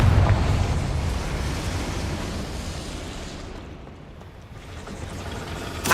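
A Confringo spell blast in Hogwarts Legacy, a loud rumbling burst at the start that rolls into a long, noisy roar and slowly fades before swelling slightly again at the end.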